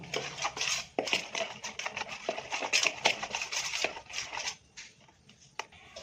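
A spoon stirs salt and turmeric into a brinjal yogurt curry in a pan, giving repeated close scraping and clinking strokes at an uneven rhythm across a few seconds, with no voices.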